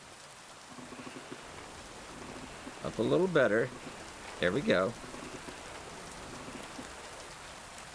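Rain falls steadily in the video game Kingdom Come Deliverance II, a soft, even hiss of rain on surfaces running throughout, with a voice speaking briefly over it.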